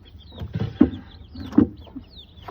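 Chickens in a coop give soft, low clucks and a couple of short calls, close by and fairly quiet, with faint rustling between them.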